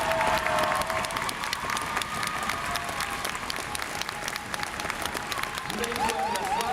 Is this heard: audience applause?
yes